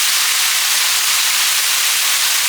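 Pieces of lamb with sauce in a hot pan for a Cantonese stir fry, sizzling in a loud, steady, close hiss that holds evenly throughout.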